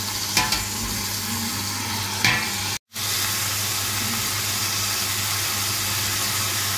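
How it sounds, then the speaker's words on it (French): Carrots and beef browning in a pan for bœuf bourguignon, a steady close sizzle of frying with a couple of brief stirring scrapes and a momentary cut. "on va faire dorer les carottes avec la viande"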